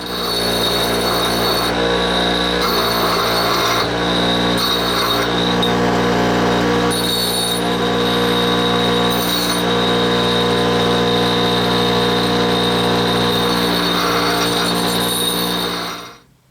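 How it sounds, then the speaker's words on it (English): An angle grinder grinds burrs off metal floating-shelf pieces in a workshop, a continuous loud whine with brief surges and dips as the disc bites the steel, ending abruptly. "take this now, grind these things down and get those burrs off"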